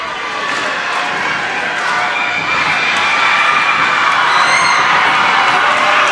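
A junior high state basketball quarter-final crowd erupts after a made free throw, loud cheering and shouting from young voices swelling and holding strong across several seconds.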